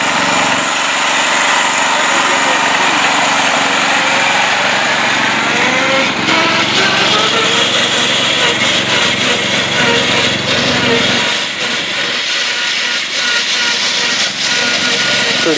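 Mastercraft tractor with a loud transmission churning through a mucky mud hole, a continuous close engine drone with whining gear noise and shifting load, loud and steady throughout.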